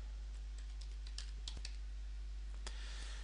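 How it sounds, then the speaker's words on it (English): Soft, close keystrokes on a computer keyboard, a short irregular run of clicks over a steady low hum, with no one talking. "So we'll just type in setout points."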